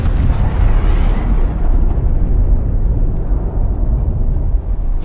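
An atomic bomb explosion: a deep, sustained explosive roar with rumbling low end, loud and continuous throughout, like a massive blast echoing without pause.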